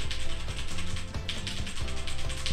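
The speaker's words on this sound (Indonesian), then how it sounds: "Dan kita akan cobain pakai mechanical keyboard ya." Fast, continuous typing on a mechanical keyboard with red switches, a dense stream of bright clacks and rattling keystrokes, close-up but somewhat soft, with no voices.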